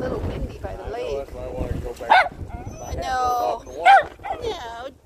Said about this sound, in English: Stop barking. You already said hi to the other dog.